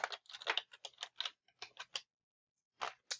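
Clicking keys on a computer keyboard while typing into an Excel spreadsheet, a quick run of light keystrokes, a short pause, then a couple more taps, close and quiet.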